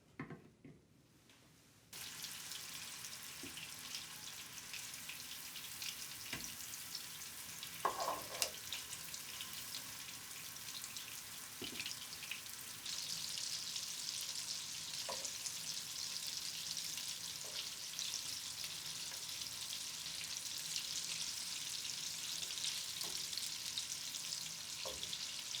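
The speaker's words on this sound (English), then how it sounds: "So now that we've pan fried our meatballs and they're this really nice golden color" Meatballs pan frying in a skillet, giving a steady, soft sizzle that swells and grows brighter partway through, with occasional faint clicks and bumps and no talking.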